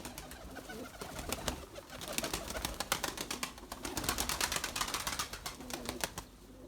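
A flock of Erzurum White breeding pigeons nearby, with cooing mixed with busy fluttering and scuffling, continuous and fairly loud without talk.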